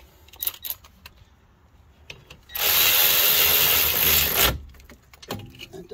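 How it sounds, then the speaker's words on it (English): A cordless battery ratchet runs in one loud, continuous burst of about two seconds, taking bolts off the brakes of a Subaru. Quieter metallic clicks and handling noises come before and after it. "I could probably do that with my battery ratchet."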